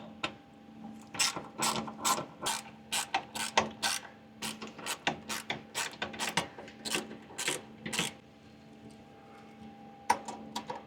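A ratchet clicks in irregular bursts of sharp strokes, close and clear, as bolts are tightened on an A320 NEO aircraft engine, with a faint steady hum underneath.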